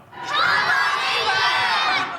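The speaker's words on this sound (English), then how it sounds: "England have plenty of fans cheering them on" A large crowd of England fans cheers and shouts loudly and continuously, high excited voices blending into a steady roar that swells in and holds for a couple of seconds.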